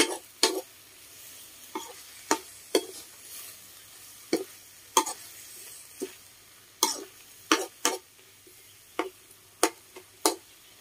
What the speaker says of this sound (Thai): ผัดให้หอมๆเครื่องโขลกเองรับรองอร่อยแน่นอนครับหอมแน่นอนครับ